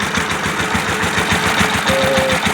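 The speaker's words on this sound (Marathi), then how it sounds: "आपल्याला हळूच ट्रॅक्टर चालवायचा आहे" A small farm tractor engine runs steadily in first gear at low speed, a loud, close, continuous throbbing with a regular knocking pulse and no talk over it.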